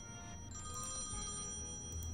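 An out-of-order payphone with a glue-filled coin slot rings in the adventure game Thimbleweed Park, a faint electronic bell trilling briefly, over quiet background hum.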